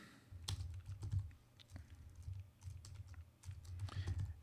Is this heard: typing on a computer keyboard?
yes